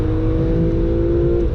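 A BMW E46 M3 with a manual gearbox accelerates hard, heard from inside the cabin, its engine droning loud and steady with a smooth rising tone and no speech.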